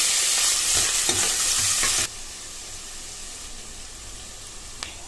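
Sliced onions drop into hot oil with cumin seeds, giving a loud bright sizzle and a few stirring clatters at first, then settling into a quieter steady frying hiss.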